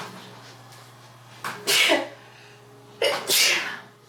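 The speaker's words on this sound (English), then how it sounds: "I gotta sneeze" Two sharp sneezes about a second and a half apart, each with a quick intake before the burst, close to the microphone in a quiet room.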